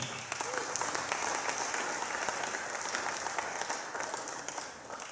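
A church congregation applauds and cheers throughout, a dense and steady wash of clapping that fills the hall at an even, moderate level with no break.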